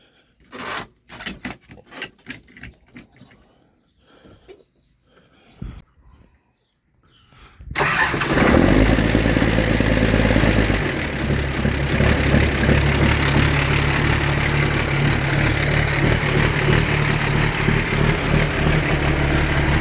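A few scattered clicks and knocks, then a large Ursus 1624 tractor engine cranks and catches, settling into a steady, loud rumbling idle that continues to the end.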